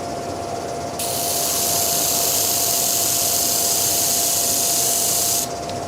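A power sander works the arm flats of a wooden German smoker figure, a loud steady whir switching on after a second and running about four and a half seconds before cutting off, with a faint constant hum underneath.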